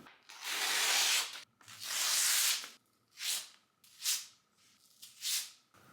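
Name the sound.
tearing a page out of a notebook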